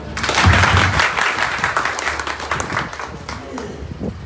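A crowd applauds with steady clapping through most of the stretch, blended with voices and a lively room murmur.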